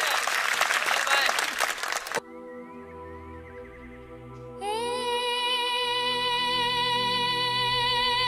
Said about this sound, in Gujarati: જરાક ગમે તો તાળીઓ પાડજો